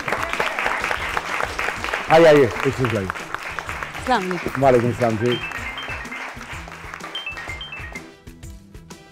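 Studio audience applause for a guest on the Pakistani talk show Gol Gapain, light clapping running under a host's warm spoken welcome and then fading out as music takes over near the end.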